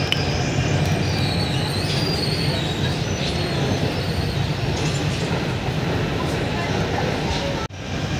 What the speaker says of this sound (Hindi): ये मेट्रो अंडरग्राउंड है